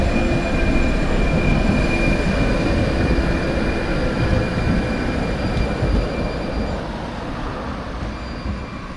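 Tatra T3 tram passing close by, a loud sustained rumble of wheels on rail with faint high squeal tones that slowly fades toward the end.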